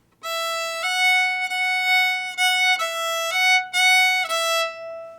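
A solo fiddle plays the bright, bowed tune "I'd Rather Be An Old-Time Christian" without using the third finger, notes shifting in quick steady steps with short breaks between phrases, close and clear without any talking.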